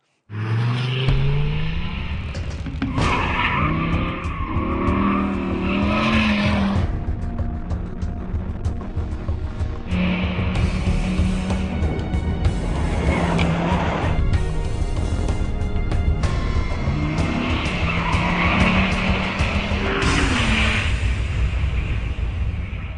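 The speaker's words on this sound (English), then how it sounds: "All right, Randy, you've just driven the most powerful car here, the Dodge Viper ACR, 600 horsepower V10, driving those rear wheels" A 2008 Dodge Viper ACR with a 600 horsepower V10 driven hard at Laguna Seca, a loud, close engine roar that climbs through the revs, drops on each upshift and surges again, continuous throughout with no talking.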